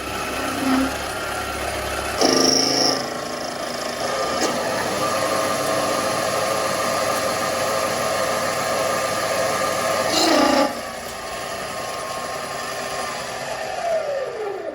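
A mini metal lathe runs at about 1500 RPM taking a slightly deeper cut, giving a steady high whine with mechanical hum, broken by brief louder chatter bursts near the start and again around ten seconds, with no talking.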